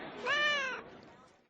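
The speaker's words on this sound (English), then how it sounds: "You brought your cat into the office?" A house cat meows once in a drawn-out, rising cry inside an office, close and clear, fading into quiet room tone.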